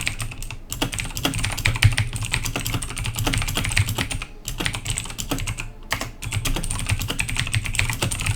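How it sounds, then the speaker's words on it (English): Rapid, continuous clicking of computer keyboard keys fills the space nearby, dense and uneven with a few brief pauses, over a low room hum. "Sorry, I'm typing."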